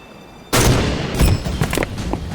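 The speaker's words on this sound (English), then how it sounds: "Sniper fire has no muzzle flash." Sniper fire in a film, with a heavy, booming shot that cuts in after a quiet start, followed by another loud blast and several rattling echoes and impacts trailing off.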